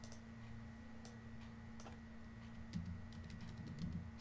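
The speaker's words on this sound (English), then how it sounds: "then you can type the name" Soft, quick keyboard typing on a computer keyboard at a desk, with irregular light clicks in short bursts over a steady low hum, no voices.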